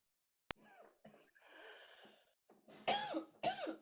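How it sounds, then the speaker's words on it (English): A woman clears her throat close to the microphone, a series of short raspy coughs and throat clearings with small breaths between them, ending in two stronger bursts. "she's clearing her throat"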